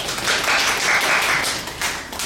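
A church congregation at a Sunday worship service bursts into applause together. The clapping is dense and steady, fills the room for a couple of seconds, then fades slightly, with no talking over it.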